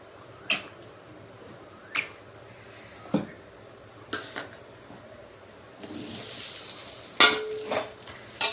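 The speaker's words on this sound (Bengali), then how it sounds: "প্রথমে আলুগুলোকে একটু লাল লাল করে ভেজে নেব।" Potatoes fry in oil in a wok with a soft, steady sizzle, broken by sharp clicks and taps of utensils at roughly one-second intervals and a louder burst of hissing near the end.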